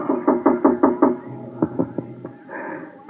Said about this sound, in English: There was a knock on my door.